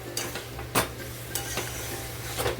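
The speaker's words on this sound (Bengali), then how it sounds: "এভাবেই কিন্তু নাড়াচড়া করবে একটু পনিরটার ভেতরে মশলাটাও যাওয়া চাই" A utensil scrapes and stirs paneer bhurji in a pan with a few sharp clinks, over a steady low sizzle of frying; no talking.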